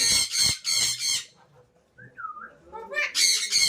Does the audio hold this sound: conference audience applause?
no